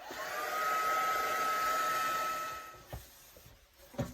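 A hair dryer blows steadily for nearly three seconds to dry freshly applied base paint colours on a circle journal page, a loud whooshing hiss with a thin whine, then cuts off, followed by a couple of soft handling taps.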